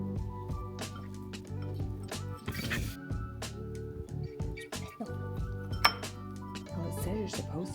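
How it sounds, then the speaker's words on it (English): A small whisk clinks and scrapes against a bowl of birthday cake batter in quick irregular bursts, close and clattery, with a few brief pauses between strokes. "You start whisking."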